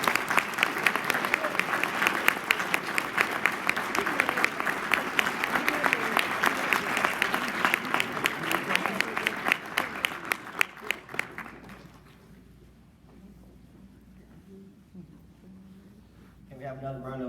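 A lecture audience at Bowie State University gives loud, sustained applause with some cheering that fades out after about eleven seconds, leaving a quiet room before a voice begins speaking near the end.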